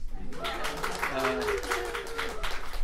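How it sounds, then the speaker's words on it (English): Steady applause from an audience at a fiction reading event, a dense wash of clapping that holds for a few seconds at moderate volume. "It's okay to clap, guys."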